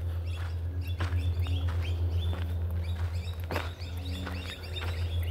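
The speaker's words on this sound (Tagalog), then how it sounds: "Ay, ang ingay ng ibon." Many birds chirp and twitter continuously in a noisy flock, high calls overlapping above a constant low droning hum.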